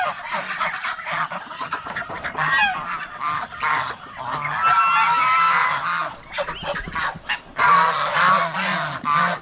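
A flock of farm geese honks loudly and close by, with overlapping calls that rise and fall in busy clusters and few gaps in the nine-second stretch.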